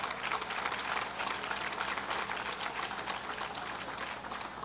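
A crowd applauds at a Long Island wine and craft beverage event, the clapping a dense, even patter heard from some distance at a moderate level.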